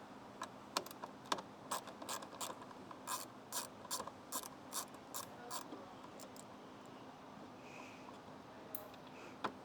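A ratchet fitted with a 7mm socket turns bolts loose on a car during a heat exchanger install, giving a steady run of crisp, evenly spaced clicks up close that pause near the end before a couple more.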